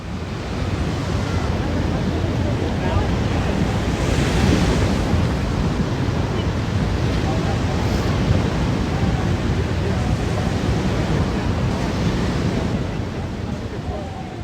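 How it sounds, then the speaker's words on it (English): Ocean waves break steadily on the shore with continuous loud surf and wind rumble, a dense unbroken wash of water that swells and recedes without pause. "cue the ocean"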